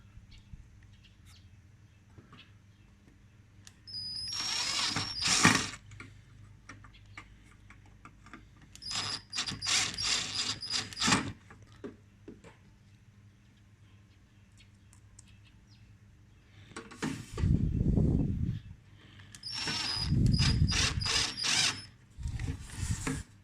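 A power drill whirs in several short bursts, each a few seconds long, separated by quieter pauses, with some low thuds near the end, while taking apart an AJ MD 2002 micro compo stereo.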